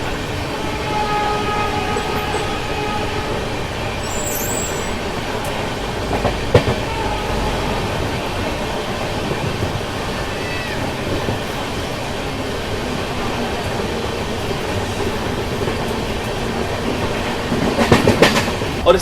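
Shri Shakti Express passenger train, Delhi to Katra, rolling steadily on rails near Samaypur Badli alongside the Delhi Metro, a continuous rumble of wheels with rhythmic clacking, brief louder surges near the end.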